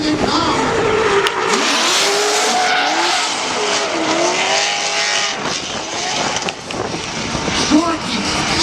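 Drift cars at a drift competition, engines roaring and revving with screeching tires and sliding squeals, loud and continuous, with a commentator talking over the noise.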